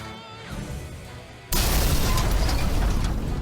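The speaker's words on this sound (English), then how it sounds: "And exploded on the ground below into approximately 280 million pieces." A giant machine in The Plucky Squire video game crashes down and explodes; after a quieter rumbling lead-in, a sudden loud, dense blast erupts and keeps roaring with crackling debris, close and powerful, with no speech.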